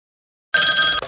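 A telephone bell bursts into a loud, bright ring after a moment of silence, then cuts off abruptly after about half a second.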